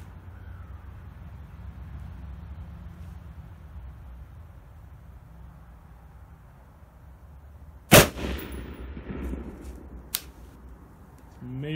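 A rifle fired from a Magpul bipod gives one sharp, loud crack after a long quiet outdoor stretch, followed by a smaller clank and another faint report a couple of seconds later.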